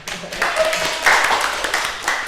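Brief scattered clapping breaks out in a classroom after a correct answer, a few hands at close range with voices mixed in.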